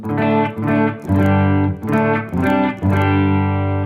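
Electric guitar through a humbucking pickup plays a series of loud sustained chords with brief gaps between them, each full and thick in the mid-range.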